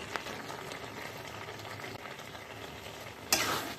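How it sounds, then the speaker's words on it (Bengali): Carrot halwa with milk and sugar stirred in a pan, a steady low bubbling simmer with soft scraping throughout and a brief louder clatter near the end. "এভাবে না নাড়িয়ে গেলে নিচ দিয়ে লেগে যাবে।"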